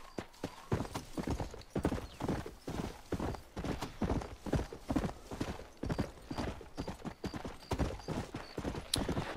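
Rapid, rhythmic clip-clop of horse hooves trotting steadily throughout in the video game Red Dead Redemption, loud and close, with faint higher tones in the background.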